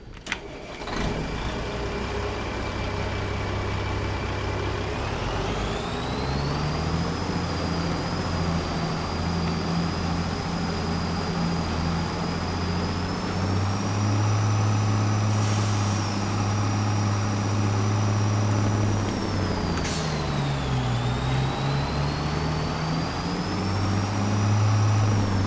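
Tuned Case IH Magnum 340 tractor in Farming Simulator 22, its engine droning steadily for the whole stretch with a high turbo whine rising and holding above the low rumble, shifting pitch as the revs change.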